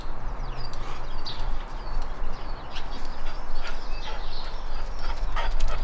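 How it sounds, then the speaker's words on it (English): A dog barks and yips a few times at a moderate distance over steady background noise, with faint bird chirps scattered throughout. "What are we barking at?"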